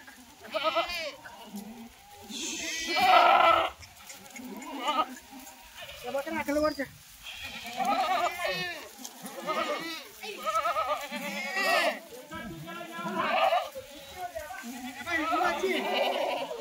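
Many Kathiyawadi goats bleating close by, unloaded from a full vehicle, overlapping calls coming in bursts throughout, with someone talking amid the herd.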